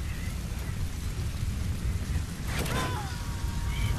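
Stormy rain in the video game Metal Gear Solid V, a thunderstorm: steady, dense roaring downpour filling the scene, with a brief sharper crackle midway, loud and continuous.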